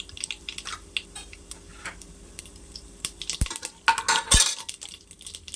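Chana dal and mustard seeds frying in a pan, soft stirring and scraping building into a burst of crackling, popping sizzle up close toward the end.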